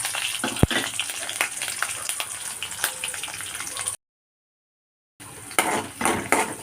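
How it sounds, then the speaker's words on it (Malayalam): Ginger, green chillies and garlic sauté in a pan, with steady light sizzling, clinks and scrapes of a spoon against the pan, then a brief gap of silence before the stirring resumes. "ഇത് നന്നായിട്ടൊന്ന് വഴറ്റിയെടുക്കാം"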